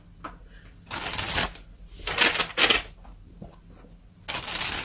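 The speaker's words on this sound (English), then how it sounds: "let's get a few tarot cards and see what this is about" Tarot cards are shuffled close by, several quick riffling bursts and light card snaps separated by short pauses, with no talking.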